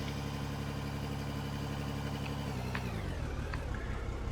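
A neighbour's car with a loud, noisy exhaust idles nearby, a steady low engine drone with a pulsing exhaust note that shifts pitch slightly near the end.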